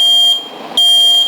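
An ionization smoke alarm sounds its battery-test beep: a loud, piercing electronic tone held steady, dipping briefly partway through before returning at full strength, with no talking.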